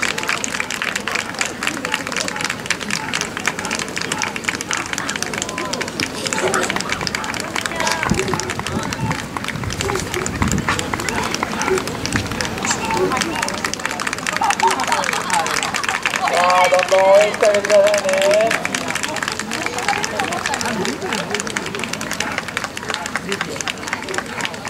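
Sustained applause and crowd hubbub from an audience at a terrier dog show, a dense patter of clapping that swells slightly near the end, with voices mixed in.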